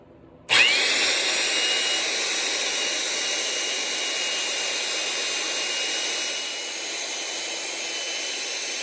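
A power drill bores holes through the steel of a welding table, starting abruptly and holding a steady, loud whine with a slight dip near the end, with no talking.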